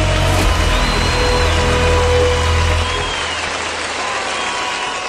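A crowd of fans roars and cheers steadily at a Haval Chitu car launch event, a loud continuous wash of voices over a low hum that eases down slightly partway through.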